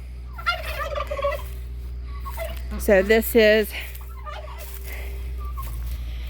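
Turkeys or chickens gobble and cluck briefly in a backyard chicken coop behind a garden, a short loud burst of calls mid-clip amid distant chatter, with a person talking outdoors before and after.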